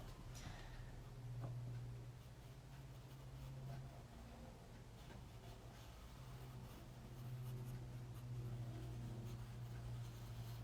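A pencil moves on paper during a blind contour drawing exercise, giving soft, continuous scratchy strokes that are faint and close against a low, steady room hum.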